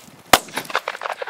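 Single sharp gunshot from a bird hunt in the field, one loud crack followed by scattered faint rustling and clatter.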